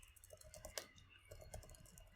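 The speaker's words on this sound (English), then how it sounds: "Keep making so many mistakes on this keyboard because it's like a new Mac" Keystrokes on a new Mac keyboard clatter in a quick, uneven run of light clicks at close range, with one sharper tap standing out and no talking.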